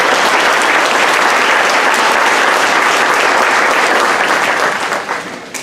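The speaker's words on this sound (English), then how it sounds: "let's give those people a big round of applause" Audience applause at a school assembly honouring STEM students of the month, steady dense clapping from a crowd filling the room, holding level throughout before thinning slightly at the very end.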